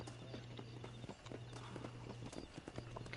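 Horse hooves in the video game Red Dead clop in a brisk, even rhythm, close and clear over a steady low background drone.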